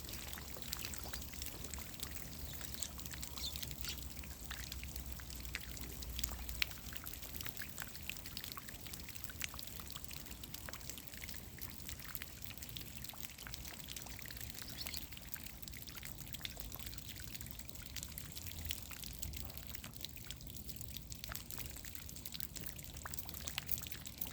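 Water from a hose flows along garden rows toward squash and lima bean plants, a steady, faint trickling pour that runs unbroken and alone for the whole stretch.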